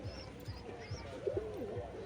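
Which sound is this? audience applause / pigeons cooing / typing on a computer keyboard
pigeons cooing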